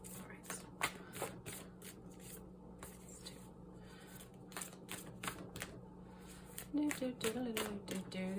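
Someone shuffles a tarot deck close by, a run of crisp, rapid card riffles and flicks with brief pauses, ending in softer handling noises.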